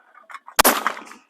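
A single loud, close shot rings out from a Zoli shotgun at a shooting club and decays over about half a second, with faint voices around it.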